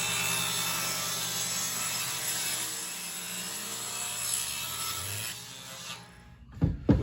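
A saw ripping lengthwise through a wood board, a continuous loud whining cut for about six seconds that stops abruptly, followed by a few faint clunks nearby.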